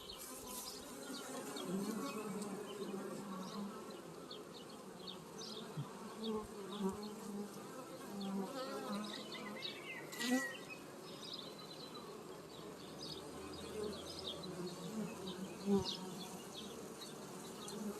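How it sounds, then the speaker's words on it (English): A dense, continuous hum of many honeybees buzzing around a hive, close and steady, with individual bees droning past now and then. "I love standing here right in the middle of the bees and just all of the crazy sound"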